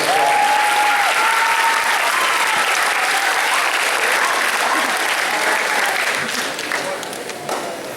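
An audience at an eighth grade graduation ceremony applauds community members, a broad sustained roar of clapping in a large hall with a faint whistle or cheer riding above, gradually fading toward the end.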